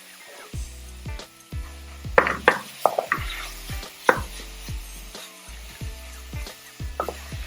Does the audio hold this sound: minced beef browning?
yes